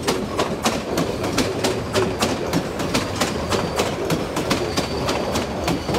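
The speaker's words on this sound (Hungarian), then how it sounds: "És akkor ezzel a vonattal, azt még ezt a vonat áthaladást felveszem." A passing train, likely a Z72 railcar, rolls steadily through the Rákosrendező rail yard in Budapest. The rhythmic clickety-clack of the wheels on the rail joints repeats loudly and close, over a continuous rumble.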